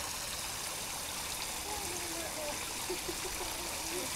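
Shower water runs in a steady, continuous hiss of spray close by, filling the whole clip at an even level, with a faint voice underneath.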